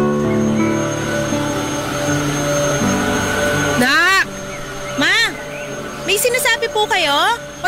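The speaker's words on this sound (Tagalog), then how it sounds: "Pasensya na po, medyo maingay kasi tong vacuum eh." A vacuum cleaner drones steadily and loudly in a home, a constant whine running throughout while voices talk over it in the second half.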